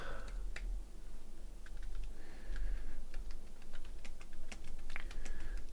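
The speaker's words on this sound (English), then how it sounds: "And then we just start typing." Rapid, irregular clicking of keys on a computer keyboard, close and fairly quiet, with short pauses between bursts.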